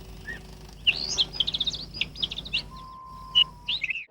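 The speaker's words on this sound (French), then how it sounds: "J'aime bien entendre les petits oiseaux chanter le matin." Small birds chirp and trill in quick bright bursts, fairly close, with a faint steady background hum.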